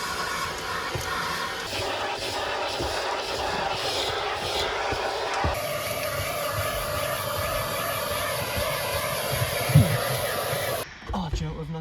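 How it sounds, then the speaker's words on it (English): A Hoover vacuum cleaner runs inside a Mercedes 190E, a steady airy hiss-like drone that shifts tone midway as the nozzle moves, with a bump near the end before cutting off abruptly. "Get the Hoover in here in a minute as well."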